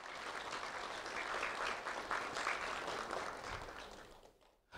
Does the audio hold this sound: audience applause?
yes